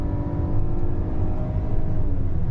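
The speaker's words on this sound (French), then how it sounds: "J'aime trop faire des essais routiers avec cette BM" A BMW driving on a road test, with a steady low engine drone and road rumble heard from inside the car, even and continuous with no voices.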